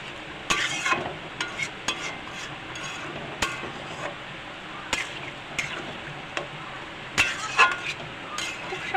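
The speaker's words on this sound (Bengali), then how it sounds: "জলটা দেওয়ার পরে একটু নেড়ে নিলাম।" Soybean curry being stirred in a pan just after a little water is added, a spoon scraping and clinking against the metal in an irregular rhythm over a soft steady sizzle, close and moderately loud, with no talking.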